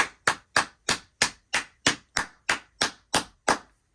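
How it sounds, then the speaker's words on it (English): Sharp hand claps in an attic studio room, twelve evenly spaced claps over about four seconds, each loud and crisp with a short ringing decay off hard surfaces, no voices. "let's do a clap test here"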